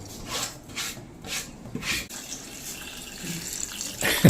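Water runs from a tap in a steady stream, with a few surging pulses early on and a faint clatter at the end.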